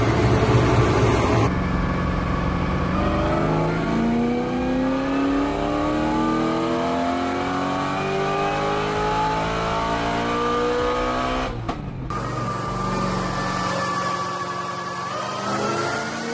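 A roughly 1100 hp Corvette ZR1 with a Kong intake runs on a dyno, its engine droning steadily loud and close while revs climb in long, smooth sweeps, with a brief dip near the end before it keeps running.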